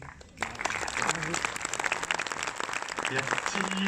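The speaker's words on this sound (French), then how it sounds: "On peut encore applaudir Roche Dizem." An audience applauds in a cinema at a special evening event, a sudden start into a dense, steady wash of clapping with a few voices underneath.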